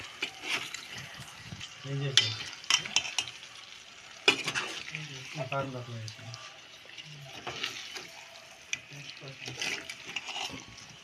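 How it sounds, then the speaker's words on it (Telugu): Eggs fry in a pan with a soft sizzle beneath clattering utensil knocks and scrapes, while a person talks intermittently over the cooking. "ఒక 2 నిమిషాలు గుడ్లు ఫ్రై అవుతాయి అన్నట్టు, అందుకే వేసాను."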